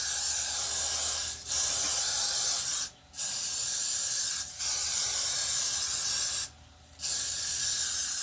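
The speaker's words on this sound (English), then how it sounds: "so you spray it." Spray bottle misting during a hair wig install, a long continuous close hiss broken by brief pauses, with a short break near 1.5 s, 3 s, 4.5 s and a longer gap around 7 s.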